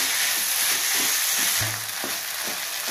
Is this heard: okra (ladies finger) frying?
yes